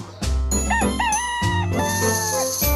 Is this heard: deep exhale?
no